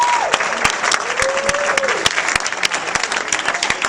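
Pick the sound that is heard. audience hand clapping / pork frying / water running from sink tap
audience hand clapping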